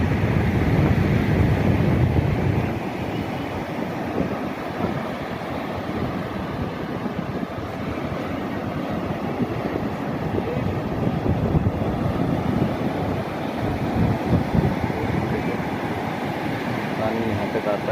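Sea waves roll in steadily at Miramar beach in Goa, a continuous loud wash of surf mixed with gusting wind buffeting the microphone, with no clear pauses throughout.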